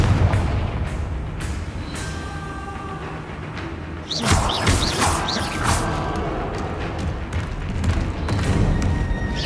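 Explosive Confringo blast spells in the video game Hogwarts Legacy: a loud booming impact with crashing debris and crackling bursts midway, surrounded by clanking mechanical effects and rumbling game ambience.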